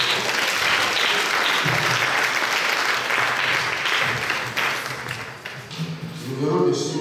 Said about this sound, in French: Acclamons fort le Seigneur